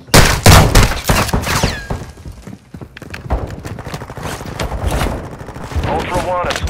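Heavy gunfire during a video game fight in a tunnel, with loud bursts and rapid shots that crowd the scene and voices talking over the combat.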